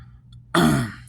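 A single harsh cough bursts out after a quiet moment, close and loud, trailing off briefly.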